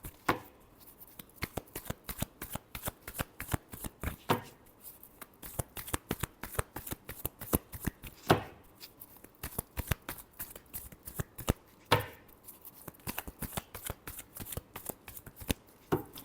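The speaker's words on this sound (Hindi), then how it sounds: "last shuffle" Tarot cards being shuffled by hand in repeated quick riffles and taps, close and fairly quiet, with no talking.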